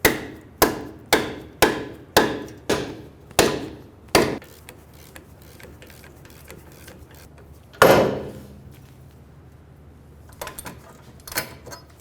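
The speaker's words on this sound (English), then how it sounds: "I'm going to be using a ball joint removal tool." A ball joint removal tool is hammered to separate the ball joint from the knuckle on a 2003-2008 Honda Pilot front suspension, ringing in a quick series of sharp metallic strikes, then one heavy blow and a few lighter taps.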